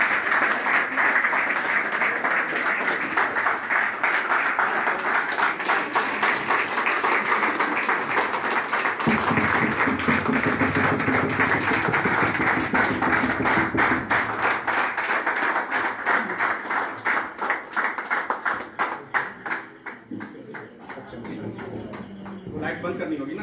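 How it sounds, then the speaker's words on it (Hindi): Loud applause from an audience at an evening business gathering, sustained hand clapping with steady density that gradually thins toward the end, with some crowd voices mixed in. "एक बार जोरदार तालियां इनके लिए"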